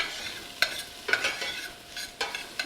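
Garlic cooking in a pan for pumpkin black bean turkey chili, soft sizzling with a few distinct stirring scrapes of a utensil against the pan, fairly close and quiet, with no talking.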